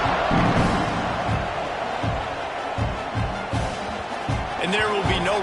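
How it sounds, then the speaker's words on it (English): Football stadium crowd at a Florida versus Oklahoma college game cheering loudly and continuously after a kickoff, a dense roar with rhythmic thumps, under a commentator talking throughout. "This crowd, full throat, splitting the eardrums"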